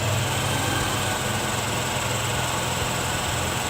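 Engine of a TVS Jupiter/Wego scooter runs steadily at high RPM during carburetor tuning, a loud, even, close buzzing drone with no speech.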